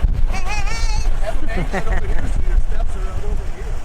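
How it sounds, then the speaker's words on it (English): Steady wind buffets the microphone at a lakeside campsite, a constant low rumble running under a voice throughout. "It's windy"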